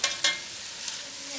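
Meat browning in a pot for lentil soup, a soft steady sizzle with a couple of quick scraping strokes of stirring near the start, no talking.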